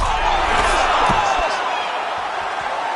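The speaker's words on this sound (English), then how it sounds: "The crowd's going crazy because they appreciate high-level mixed martial arts." Crowd at a mixed martial arts event roars loudly and continuously, a dense wash of cheering filling the arena with no pause.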